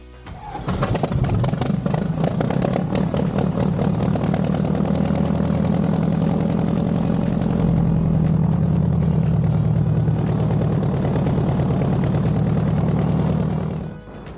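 A Lake 200 seaplane's piston engine catches and settles into a steady, loud idle, holding a continuous close drone while the amphibian taxis toward the runway for takeoff.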